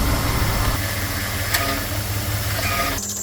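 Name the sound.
2000 Jeep Grand Cherokee 4.7 V8 engine idling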